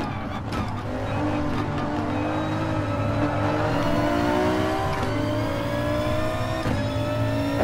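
Race car engine in GT Sport held near full throttle, a loud continuous roar whose pitch climbs steadily through the gears with brief dips at shifts, plus faint tire squeal, with no talk over it.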